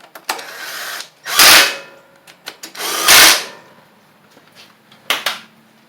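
A power drill tightens screws on a Troy Bilt zero turn mower, with two loud, close whirring bursts of a second or so each, separated by clicks, clatter and handling noise.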